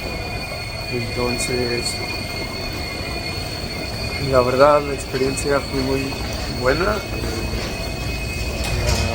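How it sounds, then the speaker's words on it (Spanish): Rumbling railway noise with a steady high whine and squealing wheels at a train station in Ukraine, while someone talks in Spanish throughout over the train sounds. "acabamos de llegar aquí a la estación de tren aquí"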